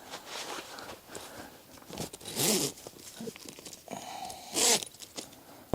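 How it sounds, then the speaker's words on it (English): The fabric side panel of a Primos Double Bull 360 hunting ground blind is zipped closed, giving a couple of close, raspy zipper pulls mixed with rustling fabric and handling noises. "Zip our side in."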